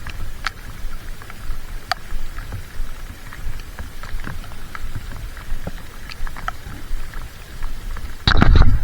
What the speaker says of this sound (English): Got a nice little rain going.